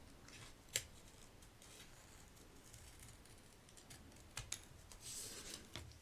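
Scissors trim paper pieces for a sticker and ephemera pack, giving a few faint, crisp snips spread over several seconds against a quiet room, with no talking.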